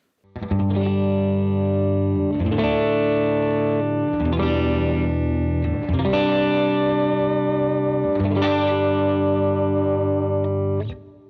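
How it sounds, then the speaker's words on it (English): Clean electric guitar tone with light reverb from a Jet Pedals Revelation on a praise and worship pedalboard, four sustained chords strummed at steady intervals, ringing out loud and alone. "So right now with that on and a little bit of reverb from the Jet Pedals Revelation, this is kind of what my clean tone sounds like."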